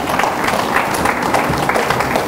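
A church congregation at a service in Brussels breaks into steady, close applause, a dense wash of many hands clapping together for a couple of seconds.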